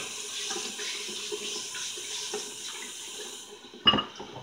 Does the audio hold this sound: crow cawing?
no